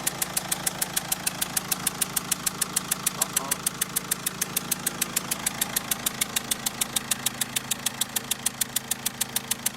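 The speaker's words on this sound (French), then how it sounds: "apparemment j'ai un problème d'injecteur." A 2006 Mercedes C200 CDI diesel engine idles close by with a sharp, rapid, evenly spaced ticking injector knock, from a stripped injector holder thread in the cylinder head, riding over its steady low rumble throughout.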